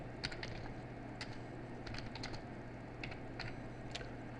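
A program name is typed on a computer keyboard, with scattered light key taps in small irregular clusters over a steady low background hum and no talking.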